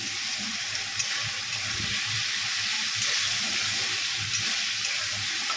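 Fish fries in a pan of hot oil, a loud, continuous close-up sizzle and crackle that holds steady throughout, with no talking.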